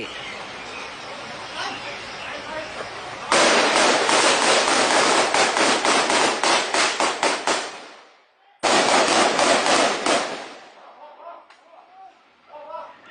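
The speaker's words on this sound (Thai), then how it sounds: "เสียงปืนจากเจ้าหน้าที่ตำรวจและคนร้ายยังคงดังอยู่อย่างต่อเนื่องนะครับ" Rapid bursts of gunfire from an armed clash between police and gunmen in Khao Chaison, Thailand, loud and close, with dense volleys of shots, a brief lull, then another burst before the firing fades.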